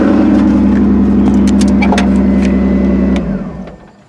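A 2002 Ford Taurus derby car engine runs loudly and steadily at close range with a rough, uneven idle from a misfiring cylinder, then shuts off and fades out near the end.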